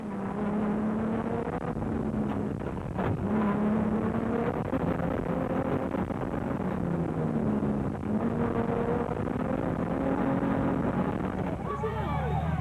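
A Nissan rally service car streaks past with a loud, steady engine drone and wind rush, its pitch rising and falling through gear changes, and the roar dips briefly near the end.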